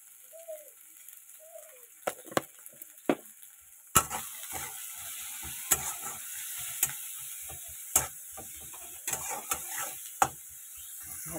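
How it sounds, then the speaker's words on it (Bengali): Food frying in a pan with turmeric and salt: a steady hiss under sharp scrapes and clacks of a spoon, quiet at first, then louder stirring with sizzling from about four seconds on. "এটাকে ভালো করে ভাজবো"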